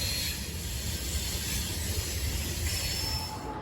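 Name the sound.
freight train passing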